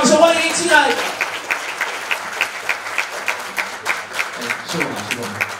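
An audience at a charity night press conference applauds to welcome a local singer. A voice speaks over the opening, then steady, rhythmic clapping continues close by at a moderate level.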